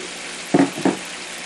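Tomato tipped into a pan of frying onion gives two quick, close sizzling splashes over a soft background fry.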